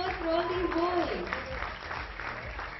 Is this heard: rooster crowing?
no